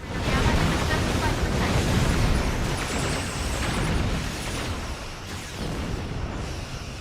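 Continuous loud, dense rumbling blasts and crackling bursts fill the scene, a sustained barrage of Star Trek Online explosions with force field and shield effects, and a faint voice underneath.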